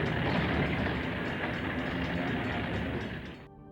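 A westbound model railroad train rolls past Walnut Creek station, a continuous close, loud mechanical rumble and clatter of wheels and gears that fades and cuts off near the end, with no talking.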